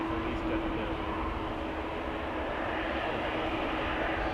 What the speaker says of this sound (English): We've got a departing A321